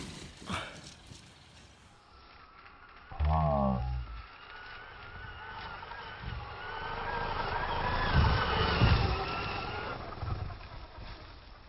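A Traxxas Maxx 4S RC car runs at full throttle on a bashing session, its whining motor rising as it approaches and sweeps close past, with outdoor rumble and scattered clatter.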